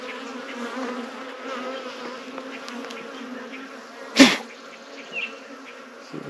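A honey bee swarm being hived fills the air with a steady, dense buzzing throughout, close and continuous, with one brief sharp knock partway through.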